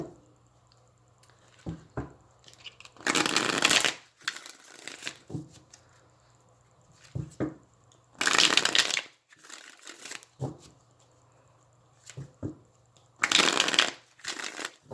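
A Cosmic Tarot card deck is shuffled in three loud, crisp bursts of riffling, each lasting about a second, separated by softer handling rustles and light taps in a quiet room.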